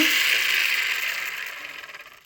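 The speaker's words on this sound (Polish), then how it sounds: "To jest właśnie dźwięk tego autka." A toy car mechanism ratchets with a rapid, buzzy clicking that slows and fades toward the end.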